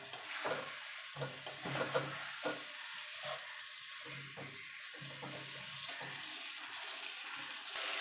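Cauliflower and potato being turned through a cooked spice paste in a pan, soft wet sizzling with intermittent scraping stirs and clinks, close and fairly quiet.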